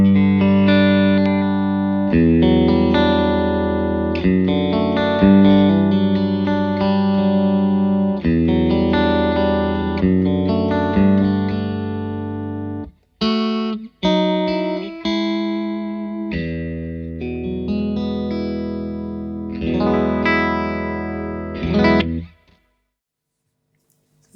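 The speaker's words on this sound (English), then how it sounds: "So I happen to have a Fender Strat here. A little bit of reverb." Clean electric guitar, a Fender Stratocaster through a Victory VC35 The Copper amplifier, playing chords and melodic lines with a touch of reverb, steady and fairly loud, briefly pausing midway before continuing.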